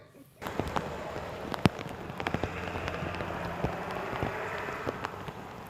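Rain falls steadily outdoors in Washington near a burning ballot box, a dense wash of patter broken by scattered sharp drips and pops. The sound stays moderately loud throughout and no one speaks.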